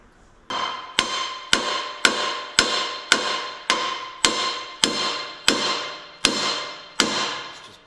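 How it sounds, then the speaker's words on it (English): A hammer striking a hydraulic cylinder on a telehandler, driving it back into place: about eleven sharp metallic taps at a steady, even rhythm, each ringing and decaying briefly, loud and close with no talk. "Just tap it back with a hammer."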